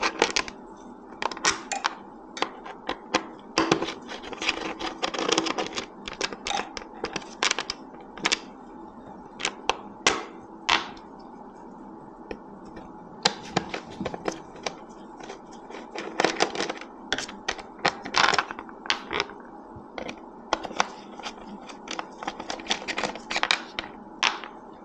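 Screws being taken out of the air filter cover on a KTM Svartpilen, Vitpilen or Duke motorcycle, heard as a long run of close, sharp metallic clicks and ticks with a brisk, irregular rhythm and no talk.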